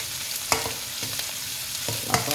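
Chili and holy basil stir-fried with pork belly in a hot pan, a steady sizzle with a few sharp spatula scrapes and stirring knocks, close and clear with no voices.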